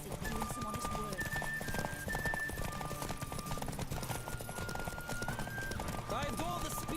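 A horse gallops hard in The Witcher 3, its rapid rhythmic hoofbeats loud and constant under voices speaking over the ride, with a brief whinny near the end.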